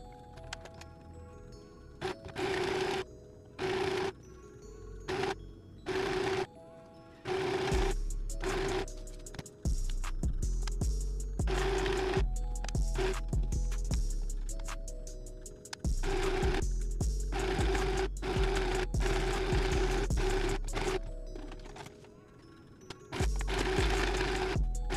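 A sewing machine stitches satin silk for a ruched slip dress, running in loud bursts of steady mechanical whirring broken by short pauses, close up, with no talking.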